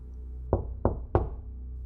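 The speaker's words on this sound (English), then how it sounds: "3 more consistent knocks seemed to confirm her theory" Three firm, evenly spaced knocks on a door land one after another in an otherwise quiet room, each a sharp thud with a short decay.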